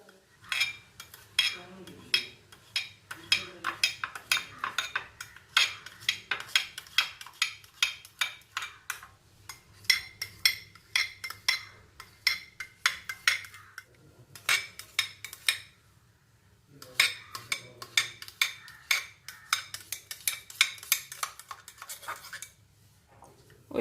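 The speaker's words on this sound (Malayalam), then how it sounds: "അപ്പം ഇനി ഞാനിത് ഒന്ന് ചെറിയ പീസായിട്ടൊന്ന് കട്ട് ചെയ്തെടുക്കാണ്" A knife cuts a tray of set jelly into small pieces for a simple iftar dessert, giving a quick run of close, sharp taps and clinks against the dish in uneven bursts, with short pauses and no talking.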